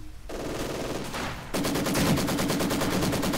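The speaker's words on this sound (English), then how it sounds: "Then it's getting suppressed by that Veteran 2 Maxim." A Maxim machine gun fires in the game Company of Heroes 2, heavy sustained automatic bursts that grow louder and denser partway through, mixed with other battlefield noise.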